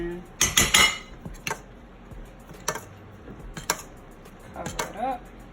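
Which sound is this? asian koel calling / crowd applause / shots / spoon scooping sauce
spoon scooping sauce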